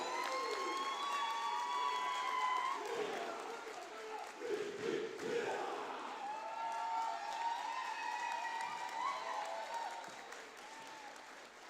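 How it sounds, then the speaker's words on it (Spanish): A large crowd at a folk festival applauds steadily, with cheers and shouts rising over the clapping throughout. "Más fuerte todavía los aplausos para los hermanos chilenos."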